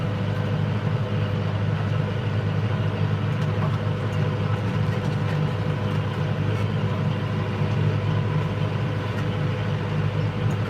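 An old air-conditioned tractor's engine drones steadily while it mows a second cut of hay. The low, even rumble stays loud and close throughout, with no talk over it.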